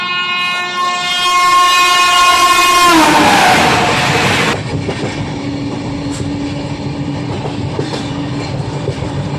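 A long, late-running passenger train sounds a loud sustained horn over the rumble of the moving carriages, then the horn stops and a steady rolling clatter of wheels on rails continues.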